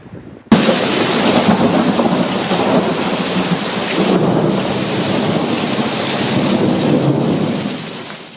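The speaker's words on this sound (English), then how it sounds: "This is the sound of rain this afternoon in Christopher Creek." Heavy rain pours down steadily in Christopher Creek after an abrupt start, with deep thunder rumbling underneath throughout, loud and close.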